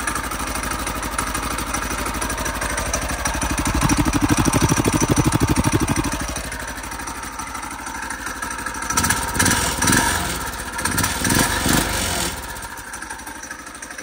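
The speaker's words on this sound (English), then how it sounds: "all you can hear is the mechanicals of the engine" A Trailmaster go-kart engine idles with a steady, rattling rumble that swells for a few seconds, then settles and sputters in uneven bursts near the end.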